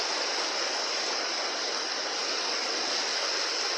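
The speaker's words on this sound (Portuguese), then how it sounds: "essa cachoeira aqui tá fazendo muito barulho." A waterfall on the Mundaú river, a constant, fairly soft broadband rushing hiss with no breaks across the short stretch.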